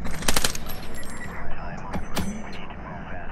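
Bursts of rapid automatic gunfire in a game, with sharp cracks and a busy mix of effects, moderately loud throughout.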